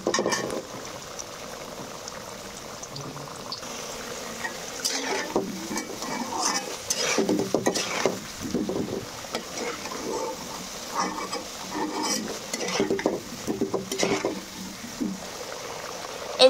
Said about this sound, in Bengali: এই যে আবার একটু নেড়ে নেব।